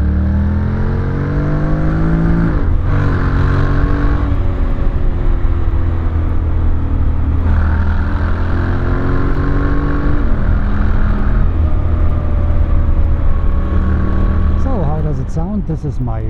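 Motorcycle engine running at higher speed, loud and steady with rising and falling pitch sweeps and strong wind rush, a voice talking over it from a helmet microphone.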